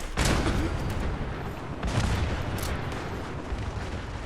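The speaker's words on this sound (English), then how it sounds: "Blowing up the cars." Cars blow up in the video game Fallout 76 as a dense, loud barrage of booming blasts and crackling bursts rumbles on continuously, with bigger hits near the start and around two seconds in.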